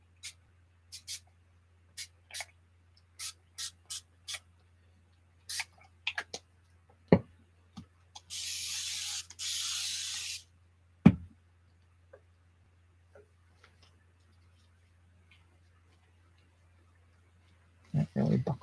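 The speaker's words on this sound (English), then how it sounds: "Let's go in with this distressed spray." Two steady hissing bursts of distress-effect spray onto collage paper, each lasting about a second, sit among scattered small taps and clicks in an otherwise quiet room.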